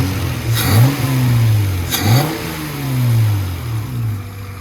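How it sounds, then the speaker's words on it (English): A CG6 Honda Accord fitted with an Injen cold air intake revs twice in quick blips and then settles back to idle, loud and close with the intake whoosh, no talking. "Let me give you guys a little rev."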